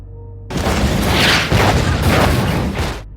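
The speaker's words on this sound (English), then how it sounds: "an explosion occurs" A dynamite blast in a zombie film erupts suddenly after a brief quiet moment, a loud, heavy boom with a broad rumbling roar that sustains for nearly three seconds before cutting off.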